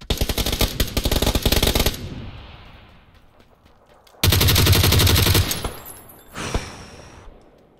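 Bursts of automatic gunfire in the battle royale game PUBG, two loud rapid volleys a couple of seconds apart, each fading into a rumbling echo, followed by a softer distant burst.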